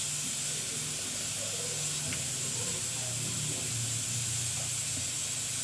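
Beef softens in a steady, loud hiss from a pressure cooker, prepared for Moroccan couscous. The sound holds constant throughout, with faint kitchen noises underneath and no speech.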